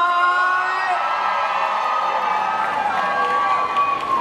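A crowd of children and adults cheers and shouts for Abigail at a Downy product launch event, with loud continuous whoops and high excited voices filling the room.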